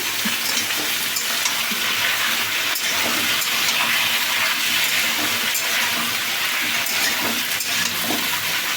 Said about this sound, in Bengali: এবার দিয়ে দিচ্ছি পুঁই শাকের ডাটাগুলো কারণ এগুলো তো একটু হালকা ভেজে নিতে হয়